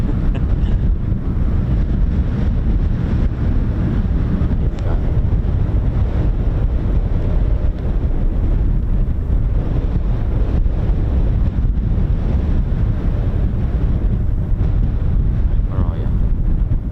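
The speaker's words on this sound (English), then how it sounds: "I'll deal with the wind in a bit." Strong gusting wind buffets the microphone continuously at an air weapons range, a loud, rumbling low roar that never lets up across the whole stretch.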